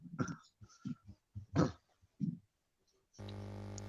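A few short, sharp coughs and throat-clearing bursts in quick succession, close and fairly loud, followed by a brief steady electronic tone.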